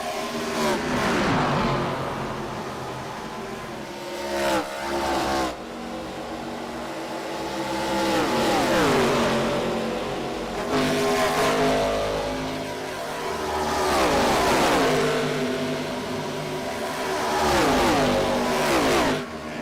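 ARCA Series stock cars racing in a tight five-car pack at Pocono, engines roaring loud and close with repeated rising and falling pass-by sweeps as the pack blasts past, no voices.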